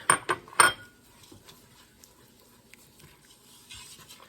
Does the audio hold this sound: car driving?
no